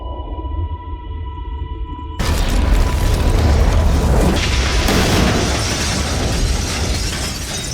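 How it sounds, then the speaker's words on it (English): A nail bomb detonates in a film fight scene: after a quiet tonal passage, a sudden loud boom erupts into sustained, crackling roar and debris rumble that fills the rest of the moment without fading. "13 managed to defeat Umbra by exploding the nail bomb in Umbra's chest"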